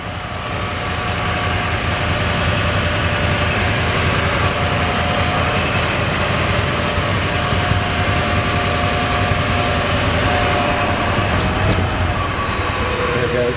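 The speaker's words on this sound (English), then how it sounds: "Nice, quiet engine. Got a nice little rumble back here." A 1955 Chevrolet Bel Air V8 idles steadily while warming up on a cold Georgia morning, giving a continuous low rumble from the exhaust that stays even and close throughout with no talk over it.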